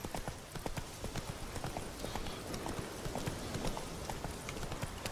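Horse hooves clip-clopping in a fast, steady galloping rhythm in The Witcher 3, close and continuous over a low ambient wash, with no talk.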